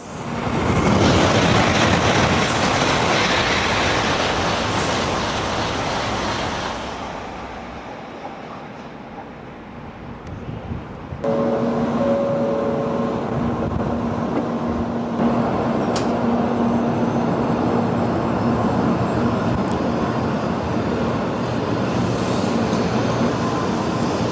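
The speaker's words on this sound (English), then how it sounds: "it's gonna wait until the faster bullet train passes by here." A loud, broadband rush of a Tokaido Line bullet train roaring past a small station in Japan, fading to a quieter lull before steady rumbling noise resumes with a faint tonal hum.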